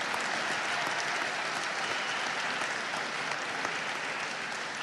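A crowd applauds steadily throughout, dense clapping at a sustained, fairly even level with no voices rising above it, applause for the president of the Supreme Court at a public forum.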